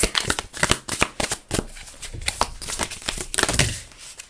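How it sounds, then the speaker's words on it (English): Crisp, rapid riffling of a tarot card deck, with repeated bursts of papery flutter and soft taps, close up and fairly loud. "let's do some shuffling, and then I'm going to cut the deck"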